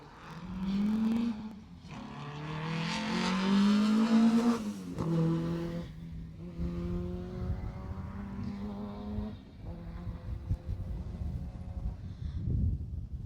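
A Peugeot rally car races through a stage of the 2018 Jersey Rally, its engine rising and falling loudly through gear changes as it approaches and passes close by, then fading into the distance.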